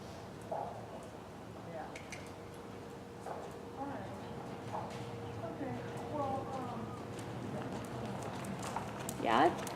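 Horse hooves thud softly on an arena surface during a walk and canter, a steady muffled rhythm under a trainer's coaching voice.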